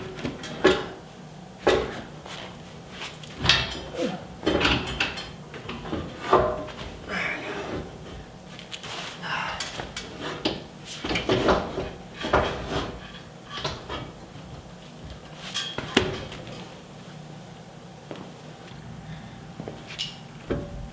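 A Rough Country front winch bumper slides and scrapes onto a truck frame, producing a series of irregular metallic clunks, knocks and scraping bursts at close range, with quiet stretches between.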